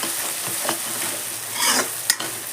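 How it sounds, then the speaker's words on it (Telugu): Ginger and garlic sizzle in hot oil in a pan while being stirred for a vegetable curry, a steady crackling hiss with a few louder scraping stirs near the end, close and alone. "ఇవన్నీ మంచిగా అల్లం వెల్లుల్లి కాస్త బాగా ఆయిల్లో ఫ్రై అయిపోవాలి."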